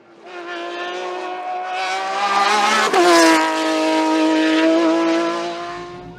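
A Speedcar GTR race car in the CM class on the Mont Dore - Chambon sur Lac hill climb, its engine howling loud and close in a steady high-revving drone, rising then dipping briefly with a sharp burst before pulling away again.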